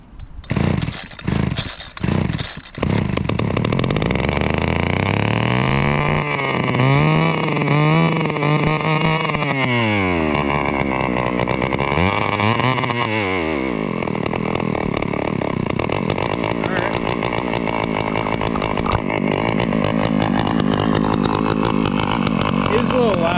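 A gas string trimmer with no trimmer line fitted gives a few short pulls and sputters, then its small two-stroke engine revs up and down loudly before holding a harsh, buzzing run.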